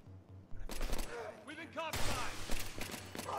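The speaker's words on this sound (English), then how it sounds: "I shot him in the head, you know." Gunshots in the Battlefield 3 video game, a quick volley of close sharp shots with clattering mechanical sounds, while players talk over the action.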